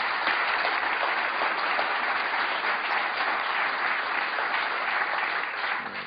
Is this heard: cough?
no